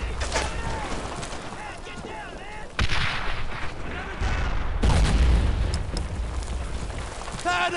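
Battle gunfire in the World War II video game Brothers in Arms: Earned in Blood, with continuous rattling shots and heavy booms from a firefight, loud and dense throughout while voices shout over it.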